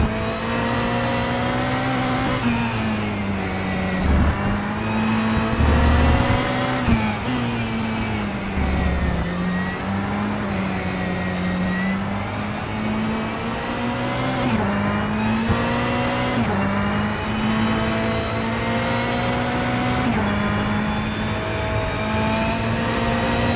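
Ferrari 488 GT3 race car engine in the racing game rFactor 2, loud and continuous, rising and falling through gear changes as the car accelerates and brakes around the track, with no voices over it.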